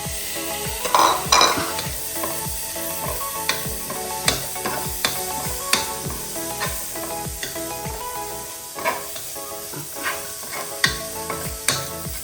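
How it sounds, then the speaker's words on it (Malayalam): Spice powders including ground pepper being stirred into chicken curry in a hot pan, a steady sizzle of frying under repeated scraping strokes of a spoon against the metal pan, close and clear throughout. "എല്ലാ പൊടികളും ഇട്ട് നല്ലവണ്ണം ഇളക്കണം"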